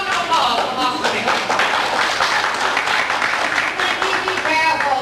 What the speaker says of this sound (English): A warm round of applause for Master Nick.